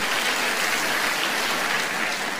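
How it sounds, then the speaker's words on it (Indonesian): A church congregation applauds during a sermon, a dense, steady wash of clapping from many hands that holds at an even level throughout, with no speech over it. "Tepuk tangan buat jemaat yang luar biasa"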